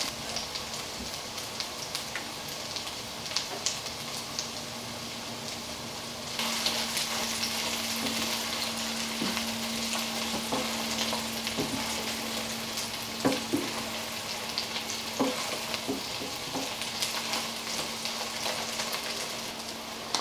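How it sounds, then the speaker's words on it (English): Sausages browning in a frying pan give a steady, dense crackling sizzle that carries on for the whole stretch, with a thin background hum and a few sharper pops and spits rising above it. "the sausages are almost browned up enough"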